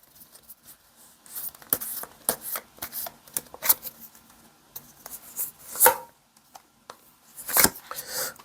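Tarot cards shuffled and drawn during a reading: a run of soft papery slaps, riffles and taps at close range, irregular and quiet, with brief louder flicks near the middle and end.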